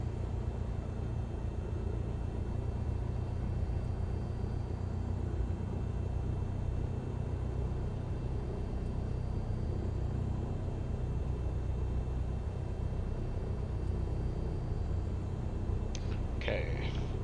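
Aircraft engine from Microsoft Flight Simulator held at 1,000 RPM, a steady low droning hum that stays constant throughout, with a brief click near the end.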